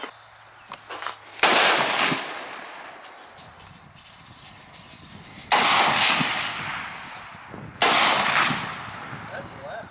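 Three loud, close bursts of 7.62 automatic gunfire in a video game, separated by quieter pauses, each burst trailing off with a rattling echo.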